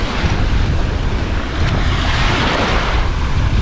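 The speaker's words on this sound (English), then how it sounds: "A little estuary area here. And here's the beach." Surf washes onto a sandy beach beside a small estuary as a constant, loud roar, heavily mixed with wind buffeting the microphone, and no voices are heard.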